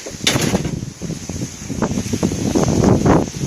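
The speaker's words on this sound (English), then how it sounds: "It's a windy day today, isn't it, Bri?" Gusty wind buffets the microphone in a continuous low roar, swelling and easing over a few seconds with a soft rustle in the background, at a resort in the Philippines.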